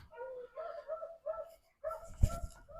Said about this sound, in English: As you can hear, our dogs are alive today.